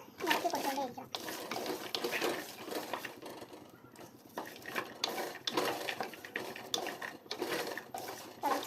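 Jackfruit seeds dry-roasting in a pan, stirred with repeated scraping and rattling bursts at an uneven rhythm, close and moderately loud, with a voice talking at times.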